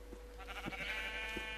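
A sheep in the Minecraft video game bleats in one steady, drawn-out call of moderate loudness, with a faint low hum beneath it.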